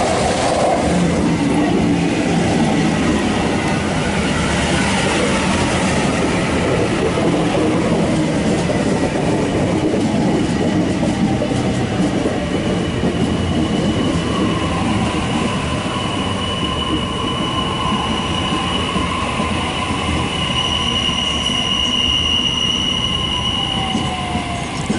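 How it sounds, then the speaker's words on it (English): A Series 2 Waratah electric train rolls into a platform at Dulwich Hill, Sydney, and slows, its motor whine and wheel squeal rising over steady rumble, with faint clicks along the rails. "A Series 2 Waratah train arriving into platform number 1,"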